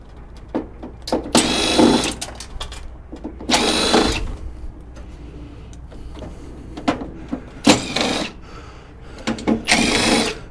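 A power screwdriver backs Torx and other screws out of a large scrapped UPS unit, sounding as several separate whirring bursts of a second or two each with short mechanical clicks and rattles between them, close and fairly loud.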